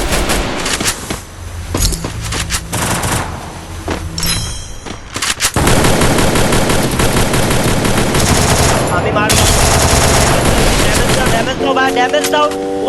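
Rapid machine-gun bursts and sniper shots ring out in a battle royale video game, loud and dense throughout, with music and effects layered in and a voice faintly present.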